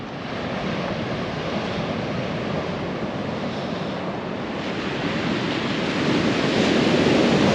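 Sea waves wash steadily onto a beach in Bulgaria, a continuous broadband roar of surf with some wind buffeting the microphone, swelling a little louder toward the end.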